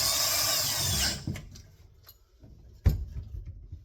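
A power drill drives screws back into a gas furnace during orifice service. A loud whirring run ends abruptly, followed by quieter clicks and a sharp knock.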